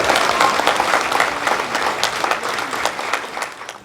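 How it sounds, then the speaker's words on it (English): Audience applause at a movie premiere held at Six Flags headquarters: steady, dense clapping from a sizable crowd, close and loud throughout, tapering slightly toward the end. "First, a round of applause to Six Flags."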